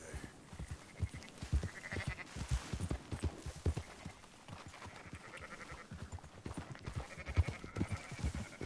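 A flock of sheep bleats in Red Dead Redemption 2 while being herded, with scattered bleats near and far over rhythmic hoof clip-clops, all fairly faint and unbroken by talk.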